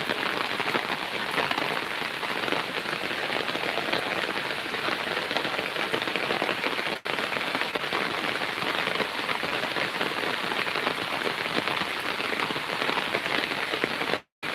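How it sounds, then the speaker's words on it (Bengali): Heavy rain falls over farmland in Muksudpur, a loud, continuous wash of pattering drops close by, with a momentary break midway and a brief cutoff just before the end. "অনেক বৃষ্টি হচ্ছে"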